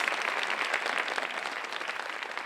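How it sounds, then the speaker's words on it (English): Audience applause at a community gardening symposium, a dense, even wash of clapping from a room full of people, steady and moderately distant with no clear talk. "would you give her another really big round of applause?"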